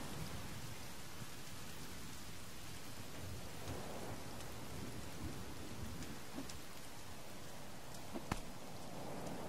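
Steady daytime rain pours down in the survival game The Forest, with low rumbling thunder rolling underneath and a sharper crack near the end, continuous and fairly loud throughout.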